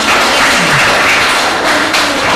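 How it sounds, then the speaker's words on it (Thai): A crowd at a Buddhist youth training camp in a Thai temple breaks into loud, dense applause, a sustained roar of many hands clapping close by. "เสียงปรบมือให้เธอด้วยนะครับ"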